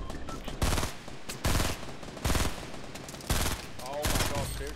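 Fortnite gunfire comes in loud repeated bursts of rapid shots at fairly regular intervals, with players talking over the exchange.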